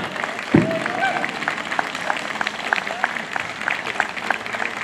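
Applause from the audience at a brass band festival for an Austrian brass band and its member Radek. Scattered, fairly light clapping begins after a short thump and carries on steadily in a modest crowd.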